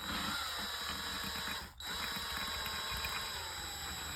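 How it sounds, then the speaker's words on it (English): A power drill spins a bent-shaft spool from a Sears trolling reel, giving a steady high mechanical whir with a brief dip midway before the hum resumes, fairly quiet. "I'm going to put this spool into my drill"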